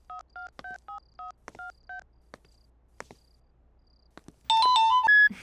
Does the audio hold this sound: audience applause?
no